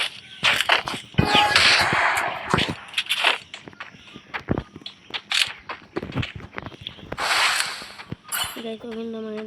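Rapid bursts of video game gunfire crackle in short volleys with sharp single shots between them, while a player talks excitedly over the action.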